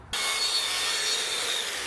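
A hand saw cutting a wooden trim piece to size aboard a steel boat, a loud continuous rasping stroke that starts abruptly and holds steady, close and without talk.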